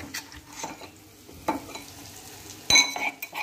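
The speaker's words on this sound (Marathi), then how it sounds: "आता आपण यामध्ये ठेचा घालणार आहोत।" A spoon or ladle stirs soft-cooked tomato chutney as thecha is added, making scattered clinks and scrapes against the pan over a faint sizzle, close by with no talking.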